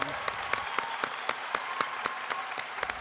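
School crowd applauding at a public school stage ceremony, dense steady clapping from many hands with sharp rhythmic claps standing out, fairly close, no clear voices.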